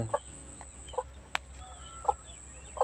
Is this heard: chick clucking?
yes